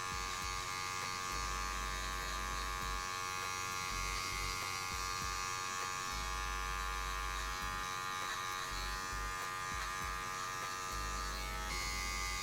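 Electric hair clipper buzzing steadily through a fade haircut, a continuous close humming drone with slight fluctuations as it moves through the hair, no talking.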